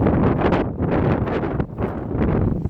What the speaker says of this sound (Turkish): Çok rüzgar esiyor değil mi?